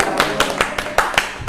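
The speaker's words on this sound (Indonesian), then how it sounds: "kita tepuk tangan buat kalian semua" Students in a classroom clap together in a quick, regular rhythm, about five sharp hand claps in a row, close and fairly loud with no talking.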